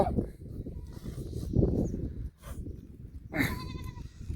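Goats grazing in a groundnut field bleat a few times amid constant rustling and munching noise, with one clear wavering cry near the end.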